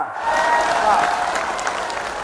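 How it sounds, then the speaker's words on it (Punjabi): A crowd at a Punjab political rally applauds a speech, with a loud, sustained wash of clapping that holds steady for about two seconds, close and dense, with a voice faintly mixed in. "ਤਾੜੀ ਠੋਕ ਠੋਕ"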